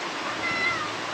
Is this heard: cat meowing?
yes